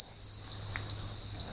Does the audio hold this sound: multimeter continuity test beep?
yes